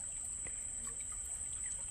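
A small forest stream trickles softly over stones, a faint, steady babble with a few light splashes and a thin high electronic whine running throughout.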